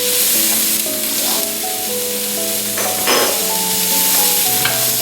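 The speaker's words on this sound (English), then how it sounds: "Garlic. Give it a stir around." Garlic sizzling in a hot pan while being stirred, a steady loud frying hiss with occasional scrapes from the stirring.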